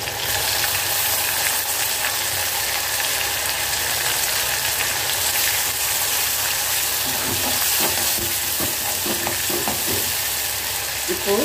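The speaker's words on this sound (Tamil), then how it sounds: "வெங்காயம் ரோஸ் கலராக வதங்கி இருக்குங்க" Onions and tomatoes sauté in a pan for a snake gourd pepper kuzhambu. A close, loud, steady sizzle holds throughout, with light clattering stirs toward the end and no voice.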